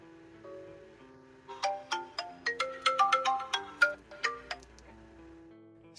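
A bright chiming phone ringtone, set off by the find-phone feature of a JELLOO EIGIIS KE3 sports smartwatch, plays a quick melodic run of plinking notes over a soft sustained tone, clear and close with no talking.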